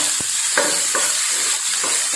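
Chopped onion drops into a hot pan for vegetable soup and sizzles steadily, with a few sharper stirring scrapes breaking through the continuous hiss.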